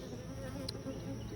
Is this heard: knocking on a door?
no